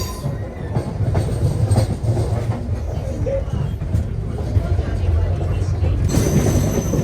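A crowded MEMU passenger train on the Kazipet–Secunderabad line rumbles steadily along the rails near Secunderabad Junction, with a continuous low roar and faint clatter of the coaches. A brief squeal comes near the end.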